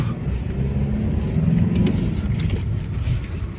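A diesel Audi A6 2.0 TDI with power loss and black exhaust smoke is driven at full throttle. Its engine gives a loud, steady, deep rumble that holds for several seconds without a break.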